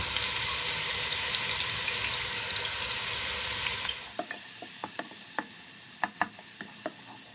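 Ground masala hits hot oil and ghee for Thalappakatti biryani: a loud, dense sizzle holds for about four seconds, then drops to a quieter crackle with scattered spoon taps and pops.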